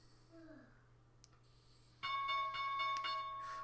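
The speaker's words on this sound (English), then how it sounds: "There's the bell." A stock market opening bell rings out suddenly after a few seconds of faint background murmur, a sustained, bright metallic tone with repeated strikes, moderately loud and steady to the end.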